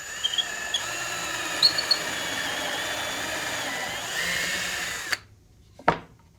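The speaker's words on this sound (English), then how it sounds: "that'll make drilling a little bit easier for the rest of the distance." A power drill bores steadily through a wooden drawer face for a contemporary nightstand, a continuous whirring drone that stops abruptly, followed by a short final burst.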